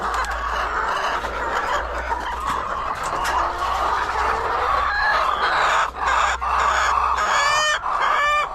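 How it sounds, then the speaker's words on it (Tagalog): Dense, continuous clucking and squawking from many egg-laying hens crowded together, loud and close, with a steady low hum underneath. "Ang ingay, no? Ganyan talaga yung mga manok na yan."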